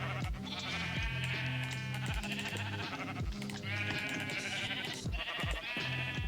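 Several sheep in Minecraft Bedrock bleat over and over, their calls overlapping in a steady, fairly loud chorus with no pause.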